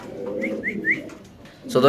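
A male Indonesian Mundian pigeon coos softly up close in short repeated notes, with a voice breaking in loudly near the end.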